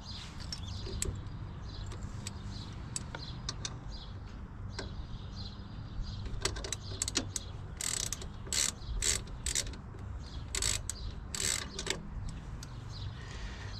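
Ratchet clicking in quick bursts while loosening a car's brake components during a brake job, with a steady low hum underneath; the clicks grow denser and louder in the second half.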